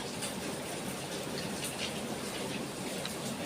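Rain falls steadily in a continuous hiss with scattered drops pattering on surfaces nearby, and no voices over it.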